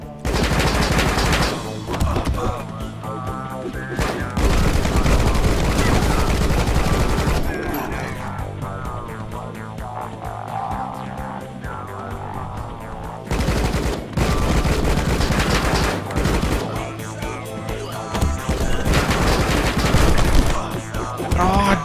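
Sustained gunfire from the action game Rocketbirds: Hardboiled Chicken, dense rapid bursts of shots nearly continuous for long stretches with brief gaps, loud and mixed with game sound effects.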